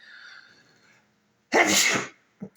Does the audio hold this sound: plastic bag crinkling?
no